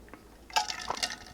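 Water poured into a glass and sipped during a short pause in talking, heard as a faint clink and brief liquid splashes close to the mic, with a quiet gulp near the end.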